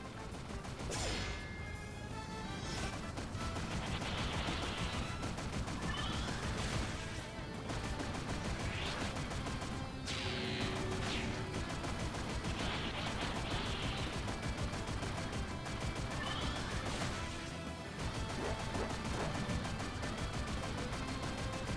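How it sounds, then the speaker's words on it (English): Rapid crackling and popping bursts of underwater fireworks in the video game Monster Boy and the Cursed Kingdom, dense and continuous over busy game music and effects for the whole stretch. "Also, fireworks underwater."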